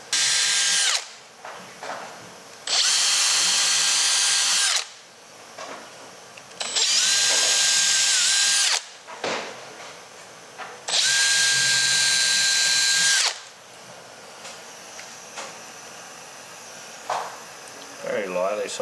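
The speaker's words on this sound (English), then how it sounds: "Don't have to do this, but I always like to pre-drill my speakers." A power drill pre-drills holes in ASV rear speaker panels for a 70 Series Landcruiser, giving four loud whirring bursts of a few seconds each, separated by short pauses with quiet handling noise.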